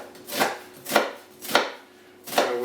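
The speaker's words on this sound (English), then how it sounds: "We need to chop the onion, and we'll chop this really fine" An onion being chopped finely with a knife on a board: four crisp, evenly spaced chops, close and distinct, with no talk.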